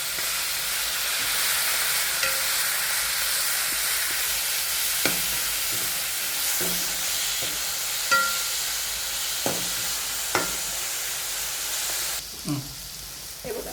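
Ground paste of cumin, coriander, sesame and peanuts going into a pan with chillies for mirchi kharda, giving a steady loud sizzle and frying hiss with a few sharp clinks of stirring, no talk.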